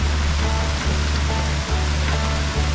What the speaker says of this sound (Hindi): ये बहुत स्पीड से ओले पड़ रहे हैं ये।